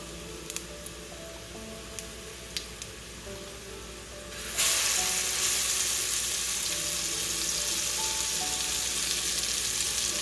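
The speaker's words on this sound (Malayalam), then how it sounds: "കാരണം ഈ അരപ്പ് നല്ലതായിട്ട് മൂത്ത് കിട്ടണം." Ground masala paste for Kerala kadala curry fries in a pan, beginning with quiet faint crackles and a few clicks, then bursting into a loud, dense sizzle that carries on steadily to the end.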